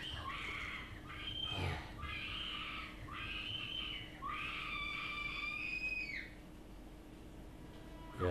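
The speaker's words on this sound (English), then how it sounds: "Yeah, that's screaming." Shrill, high screams from actors in a stage performance of Macbeth, several wailing bursts in a row with short gaps between them, loud and close over a steady low hum.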